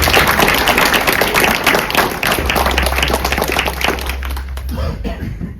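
Applause from the audience at a greyhound derby final event, a dense, steady wash of many hands clapping that continues throughout, with a low hum underneath.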